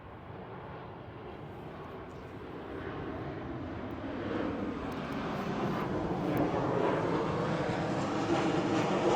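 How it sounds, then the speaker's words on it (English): A fixed-wing plane on its approach to land at an airport, heard as a broad, steady roar that slowly grows louder over several seconds, with no talking. "There goes a plane landing at the airport."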